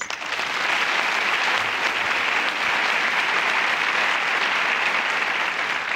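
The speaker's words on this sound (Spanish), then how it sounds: "Un aplauso para ellos." A live audience at a Colombian talk show applauds honoured groups, a loud, sustained, even roar of clapping lasting the whole stretch.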